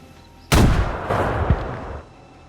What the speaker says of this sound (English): Did a nade just land on my face from the skies?